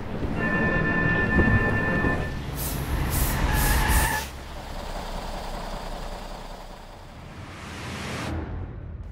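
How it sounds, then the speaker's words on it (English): A Volvo bus brakes automatically in an emergency, first with a pre-brake and then at full power. Rumbling engine and road noise carry sharp bursts of air-brake hissing, then a lower rolling sound that fades. "the system will automatically set in, starting with a pre-brake, followed by a full braking power."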